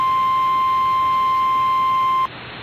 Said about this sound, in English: you'll hear your NOAA weather radio relaying loud beeping tones of an upcoming alert